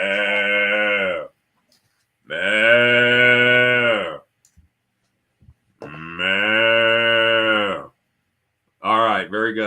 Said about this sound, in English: I didn't hear you chiming in to help me with the moo.